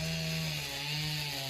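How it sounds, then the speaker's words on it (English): A neighbor's chainsaw cutting firewood on a cloudy, breezy afternoon, a steady droning whine running continuously in the background at moderate distance without breaks. "You can hear the neighbor running the chainsaw in the background."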